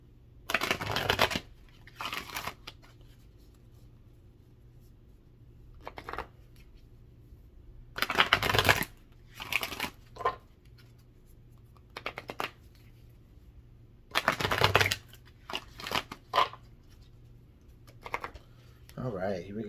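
Several quick bursts of tarot cards being shuffled, riffling crisply in short spurts separated by pauses, with occasional quiet speech in between.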